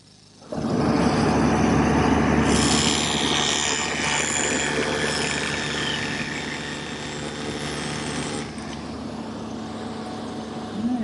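A table saw runs steadily through its final pass along the edge of a workpiece for a marble roll, starting abruptly, holding a loud, sustained whine for about eight seconds, then settling to a lower running drone.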